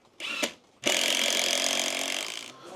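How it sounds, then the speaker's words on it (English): A power drill driving screws up into timber for a raised decking platform: a short whine, a brief stop, then a long, loud, steady run of motor and screw noise close to the microphone, with no talking. "we're just banging some screws straight up into it"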